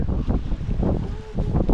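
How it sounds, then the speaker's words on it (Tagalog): Strong wind gusting steadily near the sea as a storm approaches, a broad rushing roar buffeting the microphone, with surges of rumble and no speech. "Malakas na hangin."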